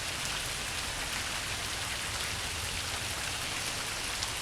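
Steady rain falls on a rainy Monday near a pond, a dense even hiss of drops on surfaces that stays constant and fairly soft throughout, with no voices.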